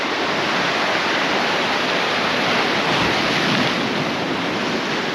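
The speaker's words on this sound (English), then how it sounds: "Now we are seeing a few waves here just hitting the rocks." Sea waves break against the rocky shore at Cala Gamba, Mallorca, a steady, loud wash of surf that roars continuously throughout with no voices.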